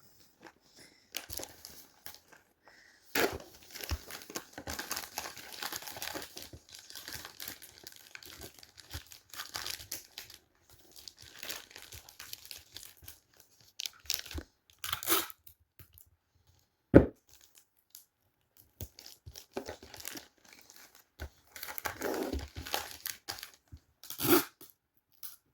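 Sticky tape crackles and tears off a dispenser while a gift is wrapped, with intermittent close crinkling of paper and tape in quiet bursts and pauses.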